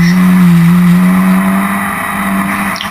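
Historic Formula Ford race cars lapping Brands Hatch flat out through the Surtees left-hander, giving a steady, close engine drone that holds a strong, sustained tone for the whole stretch.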